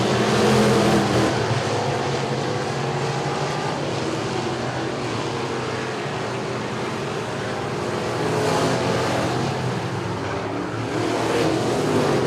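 Race cars roar around Clarksville Speedway in a continuous, fairly distant engine drone that swells and fades as the pack circles the track, with no voices over it.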